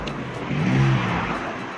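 Cars pass along a busy street in Qatar, a steady wash of engine and tire noise that swells midway as one vehicle goes by fairly close, with no talk over it.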